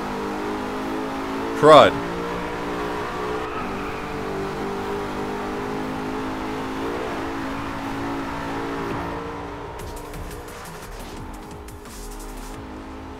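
Race cars in the Driveclub racing game rev and accelerate with a steady, continuous engine drone, while a player talks over the engine noise throughout.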